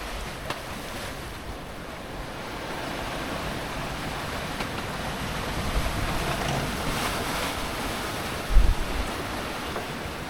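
Waves slapping and rocking a sailboat in 20 to 25 knots of wind off Greece, a steady rushing wash with wind noise on the microphone and a brief louder thump near the end.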